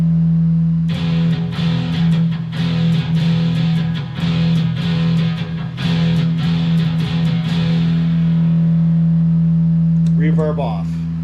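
Distorted metal guitar played through a HeadRush Prime 5150 amp model, loud palm-muted chugging riffs over a sustained low tone, ending with a short pick scrape.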